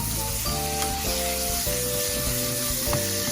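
Pork sizzles and crackles loudly in a hot pan on an electric stove, with steady frying hiss and occasional stirring scrapes close by.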